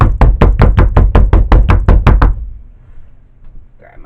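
A cold process soap mold is pounded on a kitchen counter with about ten rapid, loud, heavy thumps in even rhythm, then the noise stops, leaving faint rustling.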